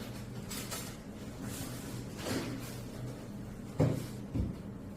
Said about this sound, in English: Open the top cover of the hive.